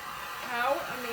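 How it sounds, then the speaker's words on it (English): A heat tool blows over fresh paint on a candle lamp, a short close whooshing airflow that swells slightly midway, with a brief murmured voice underneath. "It's gotta dry. Let me heat it."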